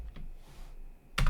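Short burst of computer keyboard typing while a command is entered on a Raspberry Pi setup, a few soft keystrokes followed by a sharper cluster of clicks at the end.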